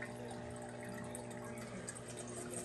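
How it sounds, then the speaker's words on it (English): Water rushes steadily through a fully functional miniature toilet as it is flushed with the handle held down, with a constant close gurgling flow and refill under a low hum, with no talking. "And let me give it another flush."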